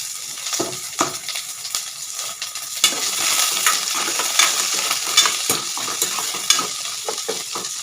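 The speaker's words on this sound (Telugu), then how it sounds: "ఇట్లా ఉల్లిపాయ బాగా వేగాలి." Chopped onions fry in a pan for a cluster bean and onion curry, crackling and sizzling steadily while a utensil stirs them with repeated scraping and clinking against the pan, close and fairly loud.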